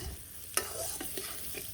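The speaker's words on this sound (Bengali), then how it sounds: "এই তো ভাজা হয়ে গেল লাল লাল করে ভেজে নিলাম" Soft sizzling of soybean chunks frying in oil in a pan, with a few light scraping stirs, quiet and close, with no talking.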